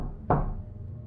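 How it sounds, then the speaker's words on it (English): A single knock on a house door late at night, one dull thud that rings out briefly over a quiet low background. "a knock at my door forced me up"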